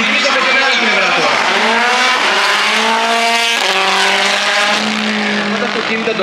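Red Bull show-run race cars accelerating at Tatoi, loud and close, their engines screaming through rising gear sweeps with sharp shifts, while a commentator talks over the noise.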